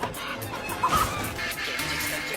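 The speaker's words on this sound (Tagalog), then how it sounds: "Maging ang tunog ay tila huni ng manok." A hen clucks in a short animated remix, a few quick close clucks over a soft background, with one louder burst of calls near the middle.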